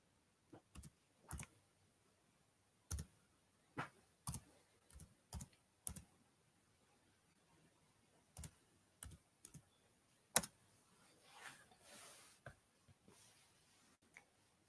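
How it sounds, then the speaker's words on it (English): Sparse, quiet clicks on a computer keyboard come singly and in short runs with pauses between, close and faint with a soft murmur of background noise. "when I type in"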